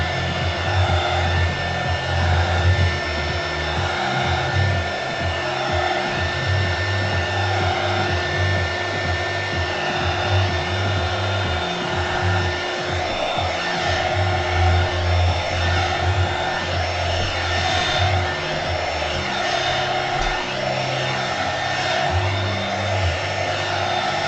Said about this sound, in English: then I dry it with a heat gun